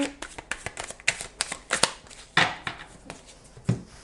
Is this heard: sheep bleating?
no